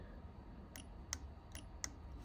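Computer mouse clicked in two quick pairs of sharp, close, light taps, alone against quiet background hum.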